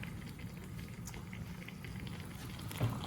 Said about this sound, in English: here's the macaroni boiling